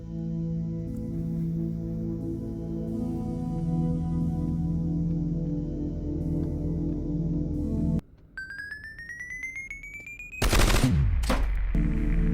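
Gunfire in a Roblox horror game styled after Lethal Company, with a burst of rapid game shots and a sharp electronic whine near the end over a steady droning game soundtrack.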